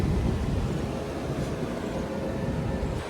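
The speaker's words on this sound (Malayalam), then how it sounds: "ചെറിയ ഗുഡ്സ് ട്രെയിൻ." A short goods train of covered wagons hauled by a WAG-9 electric locomotive rolls past close by, a loud continuous rumble and rattle of wheels on rail on a local line in Karnataka.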